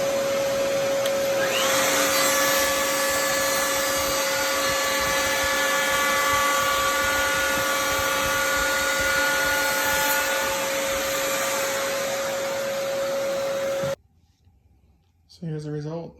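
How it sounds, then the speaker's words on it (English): Table saw fitted with a rabbeting bit cutting a rabbet into wood, a loud steady machine whine with a strong constant tone running about twelve seconds before stopping, followed by a brief voice. "I just use essentially this rabbeting bit, and I use a table saw."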